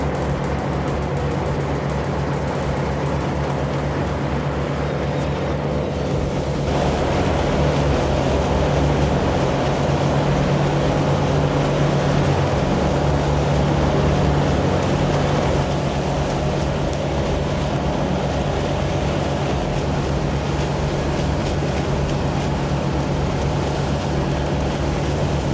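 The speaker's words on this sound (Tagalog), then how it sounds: "Patuloy pa rin ang ating biyahe at lumalakas na ang alon. Umaabot na dito sa taas ang talsik ng tubig." Strong sea waves splash against a lampitaw boat on a long open-water crossing, with a constant loud roar of engine, wind and rushing water throughout.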